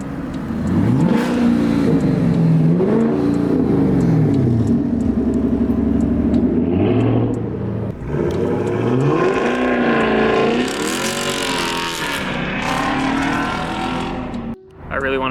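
A Chevrolet Camaro ZL1 engine fires up and revs outdoors, its rising and falling roars swelling and fading over several seconds, with a person talking over the engine nearby.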